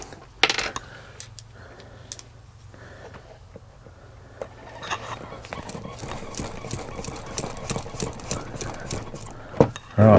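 A screw is driven into a caravan light fitting, giving a rattling, ticking run of small close clicks and taps that grows busier toward the end, with a louder knock at the finish.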